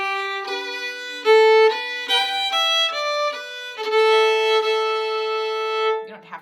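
A solo fiddle plays the closing fourth phrase of a Cape Breton reel, the tune The Burning House, with bowed notes in a lively rhythm and some brief double stops, close and clear with no talking.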